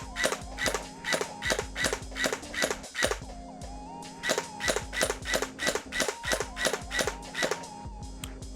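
A gel blaster mini sentry gun fires in rapid bursts of sharp mechanical shots, a brief pause between two volleys, with a whirring motor beneath.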